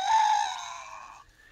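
A cockerel wearing a crow-limiting collar gives one sustained, muffled crow that tapers off without the usual loud booming finish, heard alone and close.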